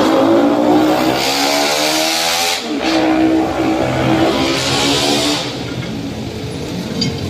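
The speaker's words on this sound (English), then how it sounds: "A bus coming from Dao." A bus speeds past on a wet, rainy night road in Olongapo City, its engine rising and fading with a long hiss of tires on water, loud and close, then trailing off.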